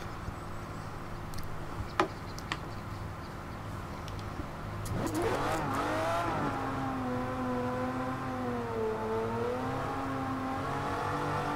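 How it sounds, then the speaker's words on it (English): A car engine in the racing game Forza Horizon 4, idling and then revving up to a steady high hold with a wavering, sustained whine, loud and alone with no talk. "as we're revving it up now"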